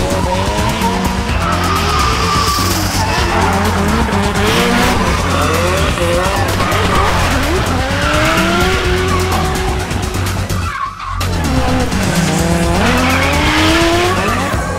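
Cars drift at a 4x4 event in Japan, engines roaring loud and close while tires squeal and skid in long sweeping bursts, with a brief dip before the noise surges again.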